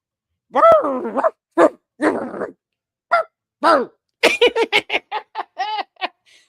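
A person imitates a dog barking: a loud, close run of yappy barks and woofs in bursts, speeding up toward the end, mixed with giggly, laughing sounds and no clear words.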